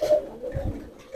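A Deobandi pigeon, of the pearl-marked kind, gives a short, close, resonant coo that rises and falls once and then trails off, heard alone without any voices.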